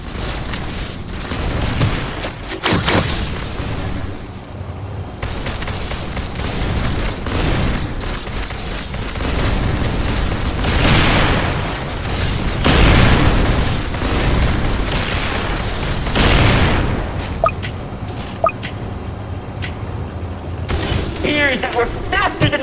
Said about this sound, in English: explosions littered the battlefield